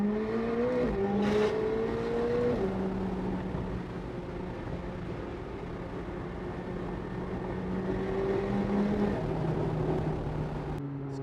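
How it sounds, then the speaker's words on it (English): A prototype McLaren sports car accelerates hard, its engine drone rising and stepping through gears under loud, continuous exhaust noise with a few sharp bursts that fit pops and bangs, heard from inside the car. "So many pops and bangs coming from the exhaust."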